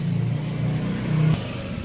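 A Yamaha Mio J scooter with sluggish, badly delayed acceleration revs in a workshop, its mid-pitched engine droning steadily and rising briefly before cutting back to idle.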